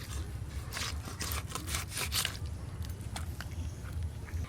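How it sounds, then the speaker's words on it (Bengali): A knife saws through a whole scaled rohu fish, cutting it into ring pieces with repeated rough, rasping strokes close by and no talking. "আজকে পুরো মাছটা রিং পিস করে কেটে নেব"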